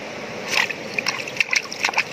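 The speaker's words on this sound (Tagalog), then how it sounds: "Ayan, para mas lumakas pa yung buga ng tubig." Water gushing and splashing from a freshly cleared natural spring after stones are pulled away, a close, continuous sloshing with small bright spatters, fairly loud and alone.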